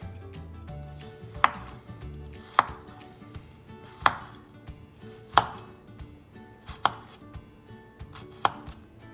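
Carrots being sliced at an angle on a cutting board, with crisp knife thuds landing about once every second or so, close and clear against a quiet background.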